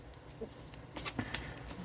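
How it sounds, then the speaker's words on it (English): A tarot deck being shuffled nearby, producing quiet papery swishes and a few crisp card flutters in short, uneven bursts. "We're just looking to shuffle."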